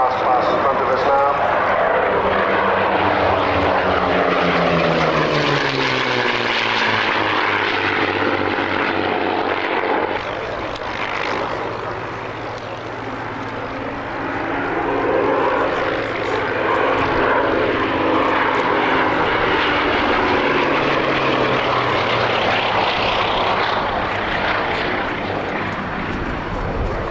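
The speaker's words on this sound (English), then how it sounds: "Built at Leavesden and delivered in 1945 at the end of the war. Making his last pass in front of us now." A 1945 Leavesden-built propeller aircraft makes its last pass, its engine drone rising and falling steadily as it sweeps by at a distance, with a voice commentating over it throughout.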